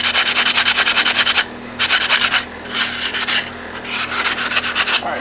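A red scuff pad rubs briskly along the edges of a Kydex holster in quick back-and-forth bursts, loud and close, with short pauses between strokes.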